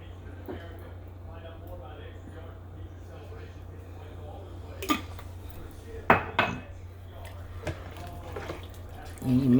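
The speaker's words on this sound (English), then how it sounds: "And you mix that all up really well." Picante sauce, corn and other ingredients mixed in a single pot, spoon clanking and scraping against the pot in a few irregular knocks under ongoing talk.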